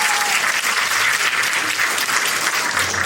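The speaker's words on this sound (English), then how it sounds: "So please give Bernardo and his team a massive round of applause." Applause from a conference audience at a self-improvement expo, a dense and steady clapping that fills the whole short stretch, loud and close, with no one speaking over it.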